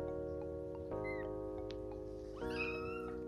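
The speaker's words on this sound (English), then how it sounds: "Opal has some meows" A newborn kitten gives two thin, high-pitched meows, short and fairly faint, over a steady humming background.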